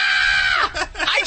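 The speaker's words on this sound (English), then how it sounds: "Can you scream?" On a radio show, a person lets out a loud, sustained scream on request, high and close, breaking off into shorter cries.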